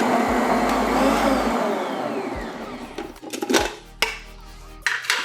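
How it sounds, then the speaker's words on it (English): An electric mixer creams sugar and butter for a scripture cake, whirring steadily and loudly for about three seconds before breaking into clattering, scraping bursts as the bowl is worked. "I'm going to start adding the sugar in and creaming the sugar and butter together."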